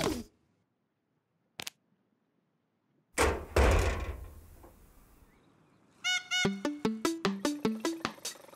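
Sharp knocks at a door in a children's cartoon, two brief isolated raps near the start, then a loud whooshing burst and a quick rhythmic run of honking, toy-like tones, with no talking.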